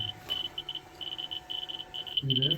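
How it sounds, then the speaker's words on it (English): A Ludlum Geiger counter beeps steadily while prospecting for uranium ore outdoors, a run of fairly close, high, rapid beeps and chirps with a brief low voice near the end. "we got the Geiger counter here. You hear it beeping and chattering."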